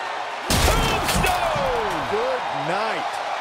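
A sharp, heavy slam as a wrestler is driven into the mat by a Tombstone piledriver at SummerSlam 2021, followed by an excited commentator's voice over the arena crowd.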